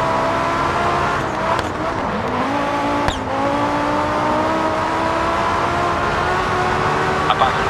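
Audi Quattro rally car engine at full effort on a stage, loud and close, with a sustained rising engine note through gear changes and brief clicks and tire noise.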